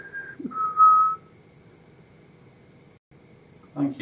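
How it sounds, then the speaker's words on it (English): Two short, thin whistled tones, one brief and one slightly longer and louder, sound inside Leasowe Castle Hotel, an old castle hotel, against a quiet room hum, with a faint voice near the end. "Now I could hear whistling like someone."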